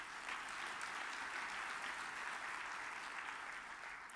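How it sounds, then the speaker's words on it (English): People at a mayors' annual plenary luncheon give a warm round of applause, steady and dense from start to finish with no speech on top. "Can we give them a warm round of applause?"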